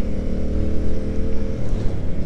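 A Yamaha MT-07 motorcycle at high speed, its engine a steady loud drone with heavy wind rush, running continuously without a break.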